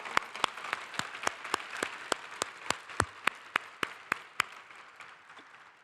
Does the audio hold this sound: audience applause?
yes